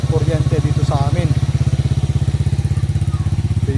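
A motorcycle engine idles steadily, left running to charge a 12V battery for an inverter during a nighttime power outage; the rhythmic low putter continues throughout, close and loud, with someone speaking over the first part.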